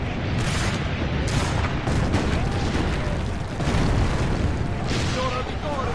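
Cannon fire and explosions on a battlefield in Assassin's Creed Brotherhood, a dense, continuous roar of booms and blasts that stays loud and close throughout.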